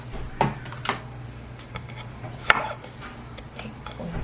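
Green onion is chopped with a knife on a cutting board for Korean buckwheat cold noodles, making sharp, irregular knocks spaced through a quiet kitchen with no talking.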